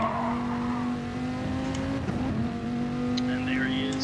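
A Corvette and a Dodge Viper race in a racing video game, with engines droning steadily at high revs and a brief tire squeal. A commentator talks over the engine noise.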